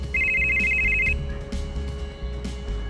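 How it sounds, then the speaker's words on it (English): A high electronic ringing tone from a hidden communicator in Fortnite warbles steadily for about a second, then stops, leaving a low hum and faint background noise. "Sounds like a call on a hidden communicator."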